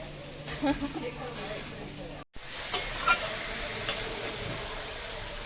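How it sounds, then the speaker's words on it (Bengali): Onions for a meat curry fry in a pan with a steady, fairly quiet sizzle and some stirring, while voices talk nearby and a brief dropout breaks the sound midway. "এখন মাংসের জন্য পেঁয়াজ ভাজা বসিয়েছে"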